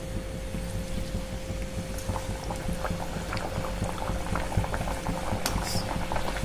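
Masala puri deep-frying in hot oil produces a steady, close, bubbling roar of frying with fine crackling throughout and a faint constant hum underneath, no talking.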